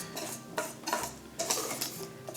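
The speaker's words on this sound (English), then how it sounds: "Just keep whisking until you don't see any butter pieces." Whisk clattering briskly against a pot while butter is beaten into lemon curd, a quick run of metallic scrapes and taps with no voices.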